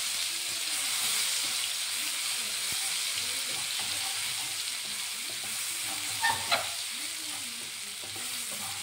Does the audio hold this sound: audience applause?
no